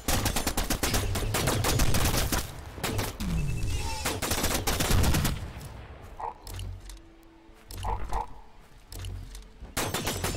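Rapid automatic gunfire while strafing in the video game The Signal From Tolva, dense bursts of loud shots with short gaps and a few heavier thuds, the firing thinning out toward the end before another burst.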